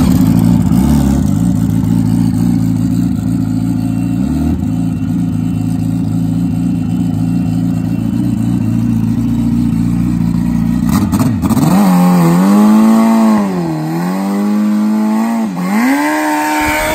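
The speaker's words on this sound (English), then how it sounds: "We'll fire this bike up here in just a second." A turbocharged drag-racing motorcycle at a west coast drag strip runs loud and steady, then its engine revs up and down in sweeping pitch swings, close and dominant with no talk over it.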